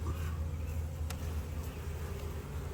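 Honey bees drone in a steady, dense buzz throughout an open-hive inspection, close and continuous with no talk over it.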